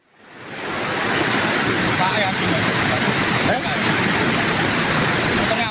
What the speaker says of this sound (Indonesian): Beginilah saat debit air Sungai Benduk Rosok yang melintas di kawasan Kecamatan Banyakan, Kabupaten Kediri, Jawa Timur meluap.